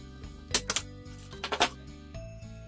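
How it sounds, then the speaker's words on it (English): A single hole paper punch snaps twice through paper to cut a notch in a book cover, two sharp mechanical clunks close up over a low steady hum. "So here I've got an ordinary single hole paper punch"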